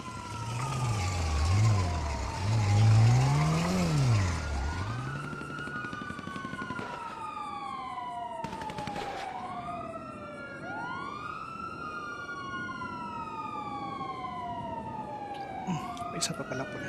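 A police car siren wails in rising and falling sweeps, close and loud at first, then continuing as several overlapping siren tones over steady traffic noise, with a voice briefly audible early on.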